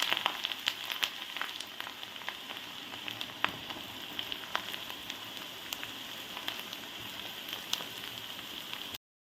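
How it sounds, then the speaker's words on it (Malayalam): Fenugreek seeds, dried red chillies and curry leaves sizzle steadily in hot oil for ginger curry, a continuous crackling hiss dotted with sharp pops, fairly quiet and close, no talking. "എണ്ണ നന്നായി ചൂടായി വരുമ്പോഴത്തേക്ക് അതിലേക്ക് നമുക്ക് ഉലുവ ഇട്ട് കൊടുക്കാം."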